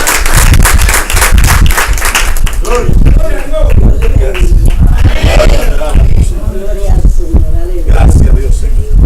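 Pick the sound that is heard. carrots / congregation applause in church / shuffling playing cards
congregation applause in church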